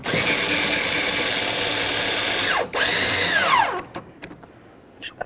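Cordless power drill or driver whirring loudly and steadily as it snugs bolts on a 2007-2012 Dodge Caliber door during a window regulator replacement, briefly pausing, revving again, then winding down into quiet handling sounds.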